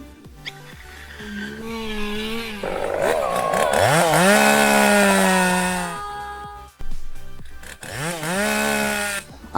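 A chainsaw runs loud and close in a comedy sketch, its pitch rising and falling as the engine revs up and eases off, cutting out briefly near the end before surging again.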